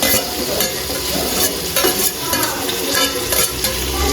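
Chopped ingredients for egg biryani being stirred and fried in a hot pan, with a steady close sizzle and scraping stir strokes throughout and no talking.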